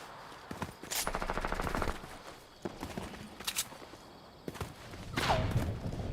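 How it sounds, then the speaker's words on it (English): Gunfire aimed at the player in a live-streamed video game: scattered bursts of rapid shots and single cracks at moderate distance, mixed with footstep-like thuds and game noise. "Somebody shooting at me."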